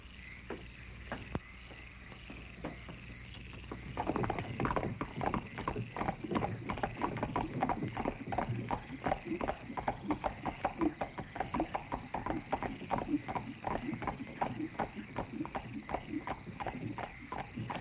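Horses clip-clop along in a steady, continuous run of hoofbeats, starting after a few seconds and carrying on at moderate loudness over a constant high insect-like hum.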